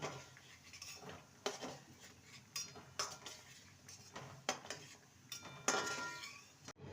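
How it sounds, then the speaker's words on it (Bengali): Boiled jackfruit pieces being lifted out of a metal pot on a gas stove, with faint scraping and clinking of a utensil against the pot in irregular bursts, close and quiet. "এবার গ্যাসের ফ্লেমটাকে কমিয়ে দিয়ে এঁচড়গুলোকে তুলে নেব"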